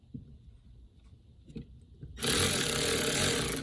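A Milwaukee M12 3/8-inch cordless ratchet drives a screw into a fresh hole in wood, starting after a couple of quiet taps and then giving a loud, steady motor whir that runs close by to the end.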